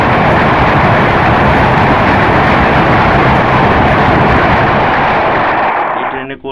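A train thunders across the Jamuna railway bridge with a loud, dense, continuous roar heard close by, holding steady before cutting off abruptly at the end.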